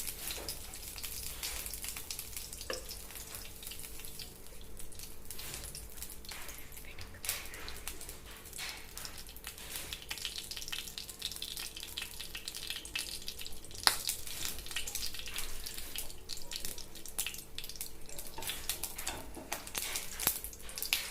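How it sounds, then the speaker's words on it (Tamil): Mustard seeds fry in hot oil in a pan, a steady sizzling hiss dotted with many sharp pops and crackles that keep going throughout. "எண்ணெய் காய்ச்சோன்னா வந்து பார்த்திங்கன்னா கடுகு போடணும்"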